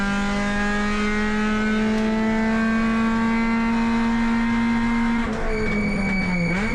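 A race car competes in the Sydney 300 endurance race at Sydney Motorsport Park. Its engine holds a loud, sustained high-revving drone that climbs slowly, then drops sharply near the end as the car shifts and brakes.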